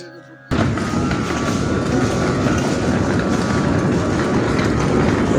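A loud train rumbles and clatters nearby at Bolpur railway station, steady rolling noise with a thin squealing tone, beginning abruptly after a brief quiet moment.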